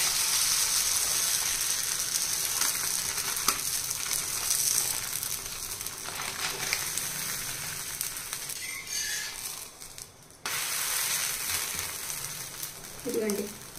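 Bobbattu, a sweet flatbread made with wheat rava, roasting on a hot pan gives a continuous loud sizzle and hiss, with a brief dip and a few scraping stirs partway through.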